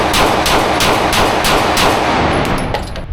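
A Glock 20 Gen 4 10mm pistol firing a fast, loud string of about nine evenly spaced shots at close range, each with a sharp crack.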